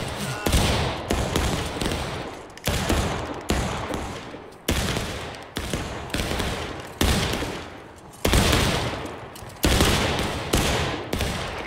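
Repeated ragged musket volleys crack out in War of Rights, a Civil War game, each burst followed by a decaying rumble, roughly a dozen in quick succession at close-to-mid range.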